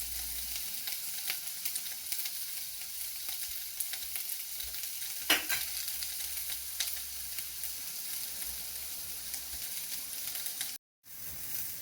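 Turmeric and cumin seeds frying in a pan for tomato saaru, a fine steady crackling sizzle heard close, with one brief sharper scrape partway through and a short dropout near the end.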